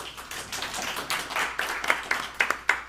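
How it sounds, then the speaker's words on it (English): A small audience at a songwriter showcase in Jackson, Mississippi claps for the bass guitarist, a light scattered applause of a modest crowd with a few sharper claps standing out near the end. "So give Will a round of applause."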